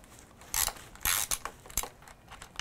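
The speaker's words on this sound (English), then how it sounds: "So I'm just going to loosen these brackets." A socket tool loosens the brackets on a bicycle saddle, giving a few sharp ratcheting clicks and short metallic scrapes in quick bursts, close and fairly loud, with no talk.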